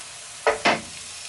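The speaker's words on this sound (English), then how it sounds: "This is actually three large crushed garlic cloves. So we're going to add that in as well." Three large crushed garlic cloves hit a pan over medium-low heat, giving two short, close bursts of sizzling and stirring with no talk.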